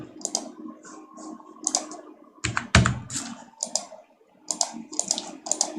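Irregular bursts of keystrokes on a computer keyboard while filling in an IRCTC train ticket booking form, close and fairly loud with brief pauses between runs, no talking.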